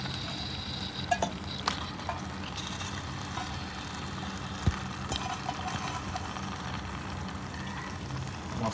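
A masala-coated salmon head being stirred in a pan, with soft scraping and low sizzling under a steady background hum, plus a few sharper clinks.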